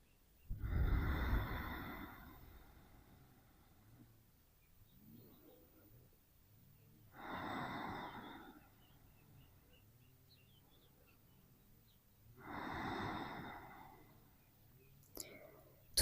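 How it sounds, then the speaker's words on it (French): Three slow, deep belly breaths during a grounding yoga pose, each a long airy exhale spaced about six seconds apart, close and soft with quiet pauses between. "Prends 3 profondes respirations dans ton ventre."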